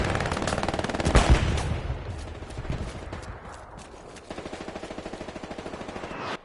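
Sustained bursts of machine-gun fire in the World War II shooter Hell Let Loose, rapid rattling volleys with a heavy blast near the start and a steady rhythmic stream of shots toward the end, with no voices over it.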